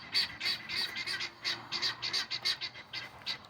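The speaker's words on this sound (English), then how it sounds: "This is Hunter the rooster." A rooster named Hunter gives a rapid run of short, sharp calls in quick succession, moderately close and fairly loud, over a quiet background.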